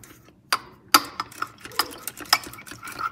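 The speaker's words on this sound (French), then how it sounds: "J'ai mes 4 œufs que je vais battre." Four eggs beaten in a bowl for a chocolate fondant batter, with the whisk or fork tapping and clicking against the bowl in an irregular, quick rhythm, close and fairly clear.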